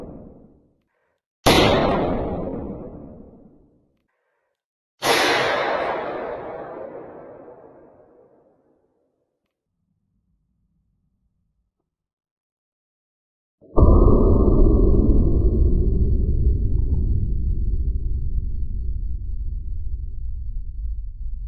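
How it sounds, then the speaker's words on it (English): Sharp, gunshot-like sonic booms ring out in the VR game Slide In Grab, two cracking blasts with long fading tails followed by a heavier boom that rumbles on. Silence falls between the blasts. "that gunshot noise you heard was actually breaking the sound barrier"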